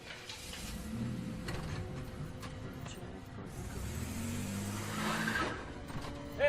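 A car pulls away nearby, its engine rising under a murmur of background noise, with a squeal of tires near the end.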